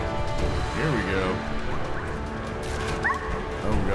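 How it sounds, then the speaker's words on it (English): A dog in the Fallout 4 game yelps and whimpers in rising, pained cries amid thuds and crashes of combat, with someone talking over the busy fight noise. "my dog's taking a beating in there"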